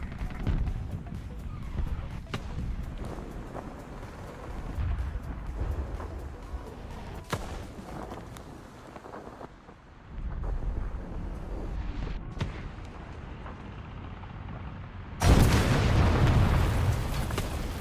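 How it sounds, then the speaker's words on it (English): Artillery strikes in the War Thunder video game produce repeated booming explosions over a dense rumbling battlefield, ending with a loud, close blast; a voice talks faintly at times. "Artillery strike in your sector."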